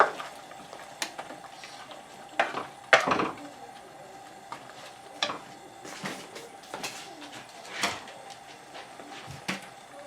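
A spoon or spatula stirs sauce for General Tso pork in a pan, with scattered scrapes and knocks against the cookware over a faint background hum, no voice.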